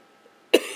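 A single short cough bursts out close and fairly loud after a near-silent pause, within a talk on anatomy.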